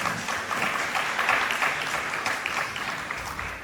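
Sustained applause from an audience at a Gudhi Padwa stage performance, a dense, even wash of clapping at moderate volume throughout without pause.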